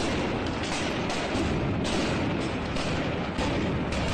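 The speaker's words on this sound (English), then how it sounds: "Just listen to the number of explosions in this clip." Stun grenades go off again and again in rapid succession among worshippers at the Al-Aqsa mosque, a dense, continuous barrage of sharp bangs and booms with no clear pauses.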